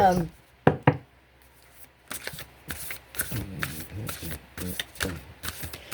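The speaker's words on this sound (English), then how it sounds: "I'm going to pull just a couple of these starseed cards" Starseed oracle cards being shuffled and pulled by hand, with quick riffling flutters and soft taps in irregular bursts, close up, while a person speaks between them.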